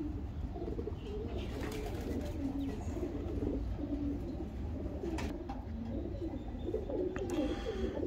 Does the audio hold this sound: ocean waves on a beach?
no